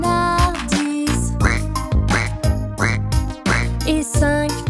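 Cartoon ducks quack rhythmically through a French children's counting song, repeated quacks landing on the beat over bright, busy music with no spoken voice.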